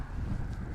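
Wind gusts across an exposed Badlands viewpoint, a steady low rumbling buffet over the microphone with no clear breaks, loud and close throughout.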